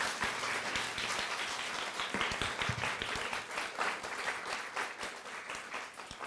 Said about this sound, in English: Could you give them all a massive round of applause?